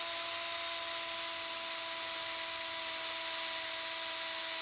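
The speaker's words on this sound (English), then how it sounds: "I'm gonna drill a hole in this as well." A drill bores a hole through a metal gas pedal lever for a drive-by-wire mod on a 1965 El Camino LS swap, giving a steady, high-pitched whine that holds without a break.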